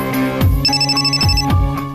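A telephone rings in a domestic drama scene, a loud, close electronic ringtone with repeated bright tones in a quick rhythm, alone with no talk over it.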